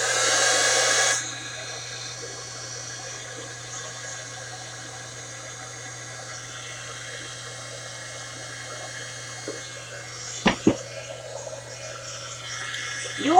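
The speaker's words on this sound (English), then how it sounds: "We're about to use the heat gun to dry it." A heat gun blows steadily, drying white gesso on a suncatcher craft, with a strong burst at the start, then a continuous hum and hiss and a few sharp knocks near the end.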